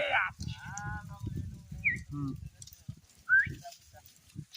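Sheep bleat several times, wavering cries near and far, mixed with people talking nearby and a bird chirp.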